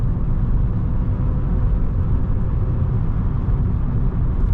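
A Honda shuttle car drives along smoothly, its engine rumbling in a steady low drone as it gathers revs, heard from inside the cabin with no talking.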